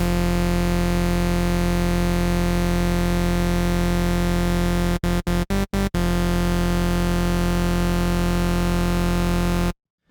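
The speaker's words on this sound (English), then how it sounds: "We're just going to introduce a bit of white noise." A dense, buzzy synthesizer tone from Native Instruments Massive with a hissy white-noise layer holds steady, stutters briefly in a few quick cuts, then resumes and stops abruptly.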